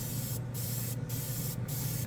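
A NEOECO airbrush sprays paint in a workshop with a steady, even hiss, interrupted three times by brief dips as the trigger is released and pressed again, fairly quiet and alone.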